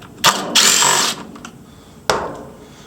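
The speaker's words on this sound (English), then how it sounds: "Now we take the carburetor bolts out." A power tool or ratchet backs out the carburetor bolts on an Echo CS-590 Timberwolf chainsaw: a short first burst, a longer whirring run, then one more sharp burst that trails off, with no talking.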